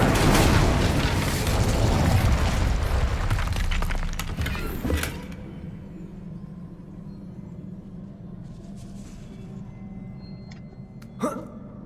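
Incendio fire spell cast in Hogwarts Legacy, a loud roaring whoosh of flame that burns for several seconds and then cuts off, leaving quiet ambience broken by a couple of sharp clicks and a brief later burst.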